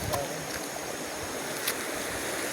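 A river flowing near a riverside spot lined with huts, a soft continuous watery rush with faint wind, steady and close with no clear speech.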